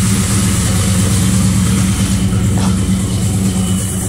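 The General Lee car's engine runs steadily at a close, loud idle, with a dense low rumble throughout and no voices.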